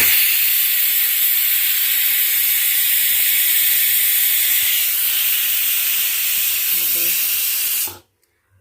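A pressure cooker on the stove vents steam while dried peas cook, giving a loud, steady, broad hiss that runs unbroken for about eight seconds and then cuts off abruptly into silence.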